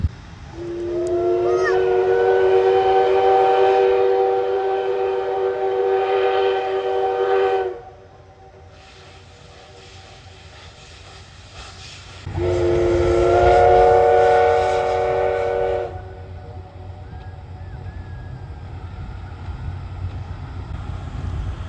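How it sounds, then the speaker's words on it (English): Steam locomotive on the Oigawa Railway in Shizuoka sounds its whistle in two long, loud, steady chord blasts separated by a quiet pause, echoing through a valley. "The sight of the steam billowing into the sky and the sound of the whistle echoing through the valley"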